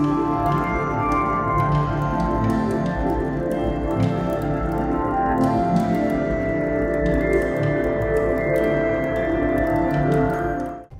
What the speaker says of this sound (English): You can hear the violent stellar winds colliding with clouds of gas,